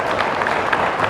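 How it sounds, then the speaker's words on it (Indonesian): Brief burst of audience clapping at a pesantren gathering, a dense patter of many hands lasting about a second. "Tepuk tangan dulu buat beliau lah ya."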